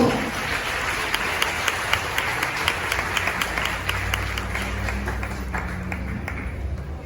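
A church congregation at a retreat applauds steadily for several seconds, a dense continuous wash of many hands clapping with a few sharper claps standing out, moderately loud, with a low hum underneath and no speech.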